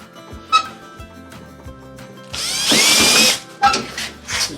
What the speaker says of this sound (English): I'm just going to drill a couple of holes through here where I put those marks